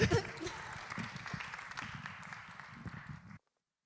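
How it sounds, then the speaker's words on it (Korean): A church congregation at a Korean youth worship service breaks into loud, sustained applause that stays steady for about three seconds and then cuts off abruptly. "다 같이 하나님께 영광의 박수 올려드리겠습니다."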